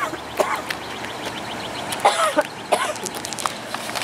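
A person with a viral illness coughs several times in short, uneven bursts, close and fairly loud, with faint throat-clearing sounds between the coughs.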